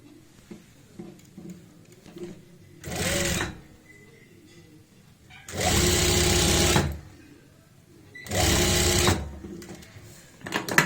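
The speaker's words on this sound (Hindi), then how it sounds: "ये हमने सिलाई लगा ली है।" Close sewing machine running in three separate bursts as it stitches a zip onto the fly of a pair of pants, the middle burst longest, with quiet handling noises between runs and nobody speaking.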